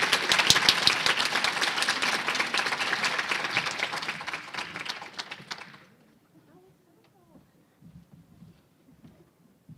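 Audience applause after a talk at a maternity and midwifery festival, loud, dense clapping that carries for about six seconds, then cuts away to near silence with only faint scattered noises.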